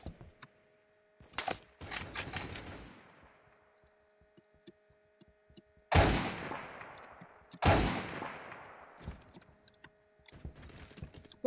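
Several loud, sharp shots from a video game gun ring out near the listener in separate bursts, each with a decaying tail, spaced apart by quiet stretches over a faint steady hum.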